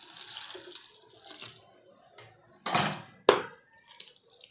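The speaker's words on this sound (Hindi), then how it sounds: "और अब हम इसे साफ़ पानी से धो लेंगे।" Chopped bottle gourd being rinsed in a pot under running tap water, with intermittent splashes and bursts of flow, a few louder sloshes near the end, close by and alone.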